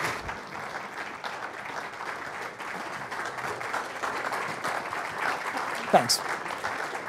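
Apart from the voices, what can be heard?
audience applause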